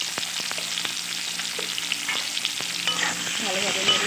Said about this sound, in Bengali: ভালোভাবে নেড়ে চেড়ে আলুগুলো ভেজে নেব।